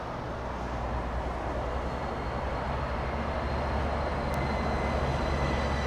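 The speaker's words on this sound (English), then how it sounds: "That's a Breeze flying in from Raleigh." A Breeze Airways airliner flies in to land at LAX, heard as a steady, broad roar of distant jet engines that holds at an even level with no talking.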